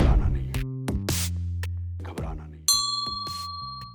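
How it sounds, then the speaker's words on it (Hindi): Mobile phone notification chime in a Pakistani television political satire segment, a bright ding-like tone ringing out clearly over a background of music and effects. "आपके मोबाइल पर कोई नोटिफिकेशन आ रहा है।"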